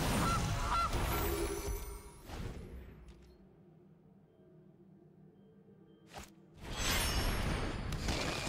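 Cartoonish goose honks from the Goose card in the MTG Arena video game: a loud, close honking burst at the start, a pause of quiet hum, then another burst of honks near the end.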